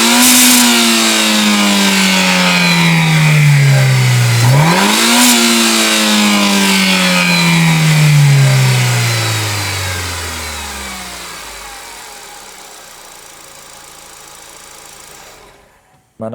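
A stage-tuned car engine revs hard at full throttle, a loud drone that climbs, dips briefly, surges again and then winds down steadily to near silence, with no talking over it.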